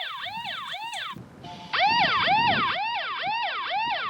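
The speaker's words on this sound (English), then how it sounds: "The next time you hear this siren" A loud electronic emergency siren wails in repeated rising-and-falling sweeps. It cuts out briefly, then resumes louder and faster, alone with no talk.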